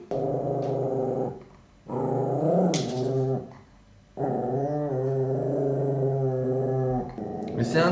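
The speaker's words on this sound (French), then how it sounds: "c'est le petit toutou" A small dog growls in long, sustained rumbling bursts broken by brief pauses, close and fairly loud, in three main stretches with no human voices.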